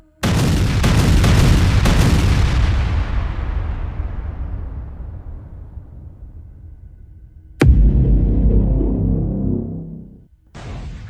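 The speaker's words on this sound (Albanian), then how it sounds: "Ky është një bombardim i dendur me granata të rënda për të hapur rrugë tankeve dhe kombësërisë" Heavy artillery shells bombarding positions in 2001 wartime fighting at Sllupçan, heard as a loud deep blast that rumbles and decays over several seconds, followed by another powerful boom and a third starting at the end.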